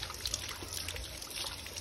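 Water trickles and splashes faintly during a young daughter's bath, a brief, soft, close dribbling pour.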